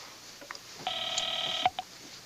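A telephone is dialed in a 1950s crime-drama setting: a short run of steady electronic dial tones and beeps, fairly close and clear, with no voices over it.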